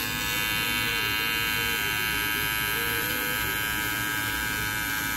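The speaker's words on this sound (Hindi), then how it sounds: "इसको ट्रिमर से ट्रिमर को ऑन करेंगे और ऐसे कट करेंगे" An electric hair trimmer hums steadily as it cuts long hair. The buzz is constant and close, and no voices are heard.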